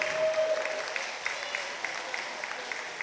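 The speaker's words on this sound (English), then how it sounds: "Give everybody a big hand of a round of applause." An audience claps for volunteers at a Thanksgiving charity event, a steady burst of moderate applause from a modest crowd, with some faint voices mixed in.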